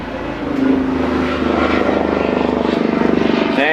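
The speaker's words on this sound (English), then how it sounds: "Thank you, helicopter." A helicopter passes overhead, its engine drone and rhythmic rotor thumping loud and steady, building slightly toward the end.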